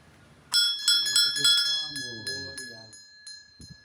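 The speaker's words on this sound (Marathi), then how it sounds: "वाजव वाजव घंटी वाजव" A metal temple bell at a Ganesh temple rings repeatedly, bright and ringing, struck several times in quick succession while a voice speaks over it.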